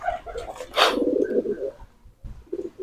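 A pigeon coos nearby in a few soft, low throaty phrases, with a brief rustle of wing movement partway through.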